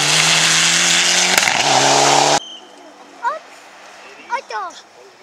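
A rally car on a special stage of the 2011 South Estonian Rally passes close and loud with a roaring engine for about two seconds, then cuts off abruptly, leaving quiet outdoor ambience with a few faint chirps.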